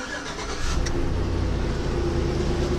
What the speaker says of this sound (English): Let's go ahead and start it up and you guys can hear it.